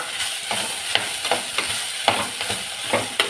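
Snake gourd and brinjal pieces for a Kerala sadya avial are stirred in a hot pan: regular scraping strokes, roughly two or three each second, ride over a constant sizzling hiss, close and fairly loud, with no talking.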